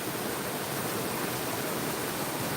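Waterfall at night, a steady, dense broadband rush of falling water that stays even and unbroken throughout, close and continuous with no voices.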